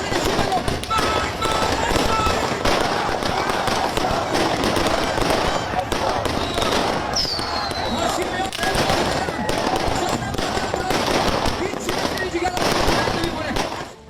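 Fireworks and firecrackers go off in Tehran during a street celebration, a dense, continuous crackle of pops and bangs with a brief whistle, heard among crowd noise.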